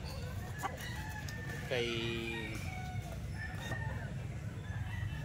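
Gamecock roosters crow and cluck outdoors, one clear crow rising over a steady background hum and scattered clucks, with a person speaking briefly nearby.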